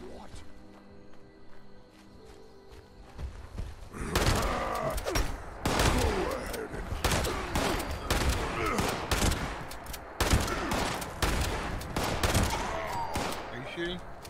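Rapid gunfire from Fallout 76 cracks out in dense bursts, including a pump-action shotgun, with loud volleys close by and shorter pauses between them, mixed with game effects and occasional voices.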